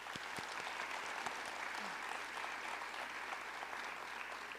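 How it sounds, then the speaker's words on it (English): Steady applause from a crowd at a primary school graduation ceremony, a continuous fairly distant patter of many hands heard at low volume. "This deserves a round of applause."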